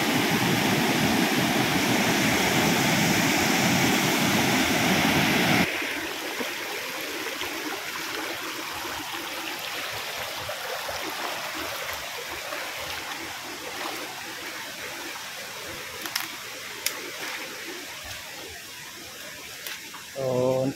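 Floodwater flows over flooded farm fields with a steady rushing wash, loud at first and then softer and more distant, with a voice speaking faintly over it.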